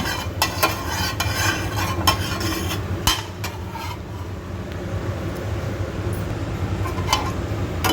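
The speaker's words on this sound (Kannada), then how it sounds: "ಮೆಂತ್ಯ ಕಾಳು ಈ ಥರ ಸ್ವಲ್ಪ ಫ್ರೈ ಆದ ತಕ್ಷಣವೇ" Fenugreek seeds fry in a pan with a soft, steady sizzle, broken by sharp clicks and scrapes from a spoon stirring against the metal.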